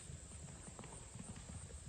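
Horse hooves clip-clop in a quick, steady rhythm, faint and thin as though played back from a device, with no talking over them.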